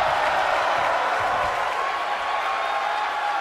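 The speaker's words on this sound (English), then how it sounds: "Look at this crowd! It's insanity in here!" A packed wrestling arena crowd at an NXT event roars and cheers in a loud, continuous wall of noise that holds steady for several seconds.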